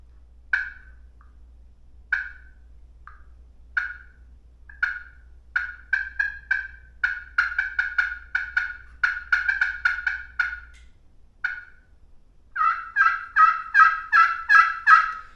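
A slate turkey call worked with a striker gives a series of sharp yelps and clucks, starting sparse and building into rapid, loud runs of close, crisp notes, with no talking.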